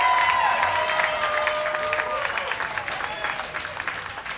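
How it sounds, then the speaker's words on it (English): Audience applause and cheering at a comedy club in Sarasota as a comedian is brought to the stage, steady dense clapping close by that fades slightly over several seconds. "Big round of applause for Todd Kleperis."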